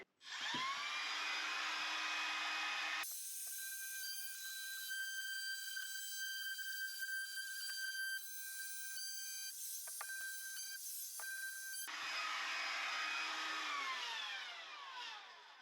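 A power saw cutting wood during an off-grid bathroom build gives a continuous high-pitched whine that runs unbroken for about fifteen seconds, alone with no voices.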